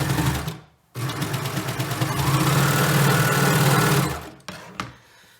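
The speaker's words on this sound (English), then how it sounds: "Let me sew this quickly." A sewing machine stitches the sleeve cuff of a bomber jacket in one steady, close, loud run of about three seconds, framed by brief starts and stops, with no voices.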